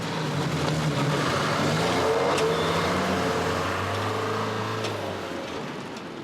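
Two hijacked security vans driven off along suburban roads into an industrial estate, a steady engine drone with broadband road noise that swells slightly and then fades toward the end, no voices.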